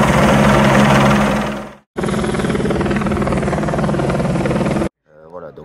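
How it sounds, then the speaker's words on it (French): A helicopter hovering to place lighting masts for a synthetic sports pitch gives a loud, steady rotor and engine drone, cut off abruptly twice, with a brief voice at the end. "cette venue d'un hélicoptère pour poser les mâts d'éclairage"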